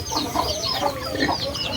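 Several chickens cluck continuously nearby, overlapping in a busy, uneven chatter with no talking, with ducks also present.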